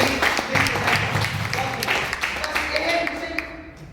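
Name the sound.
loud applause for the speaker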